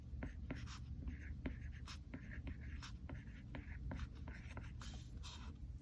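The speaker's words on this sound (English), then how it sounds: "So I'm just going to write that in really fast in section 3." A stylus writes quickly on a digital planner tablet, producing soft, rapid scratchy strokes and light taps, faint and close, with no talking.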